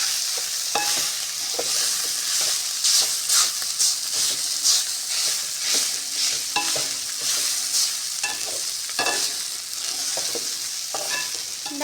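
Sesame powder rice, ellu podi sadam, being stirred and mixed in a pan, with repeated scraping and stirring strokes over a soft sizzle and hiss that continues throughout.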